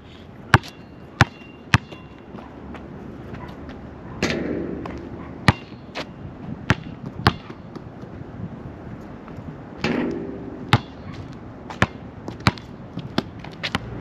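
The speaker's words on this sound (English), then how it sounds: "I'm about to shoot some hoops." A basketball bouncing on a playground court, sharp isolated thumps at irregular intervals, close and clear, with a couple of louder rattling impacts like shots hitting the hoop or backboard.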